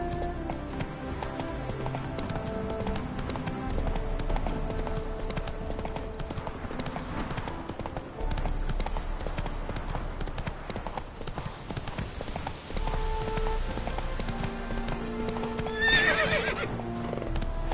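A horse in The Witcher 3 gallops with steady, rhythmic clip-clop hoofbeats throughout, over a busy game soundscape, and lets out a loud neigh and whinny near the end.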